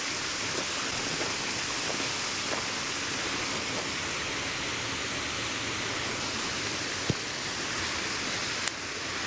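Steady, broad rushing of falling water fills the whole stretch, constant and even, with a couple of faint clicks.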